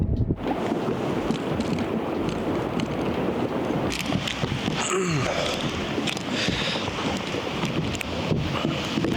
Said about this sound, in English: I apologize if the wind is a little loud.